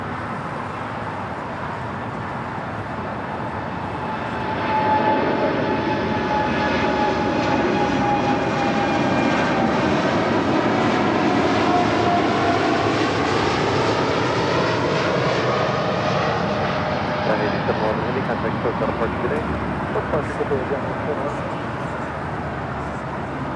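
A fixed-wing airliner lands on runway 25 Left at LAX, its engine roar swelling as it nears and then holding loud and steady, with a slowly shifting pitch as it rolls past and away.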